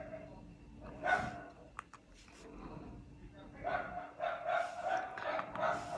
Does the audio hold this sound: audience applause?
no